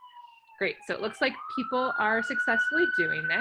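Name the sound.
police sirens in the background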